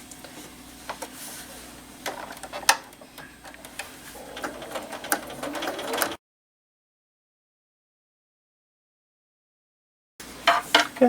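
A sewing machine top-stitches the fabric of a Kindle sleeve, a steady mechanical whirring with ticking clicks, fairly quiet, stopping abruptly into silence before a short burst resumes.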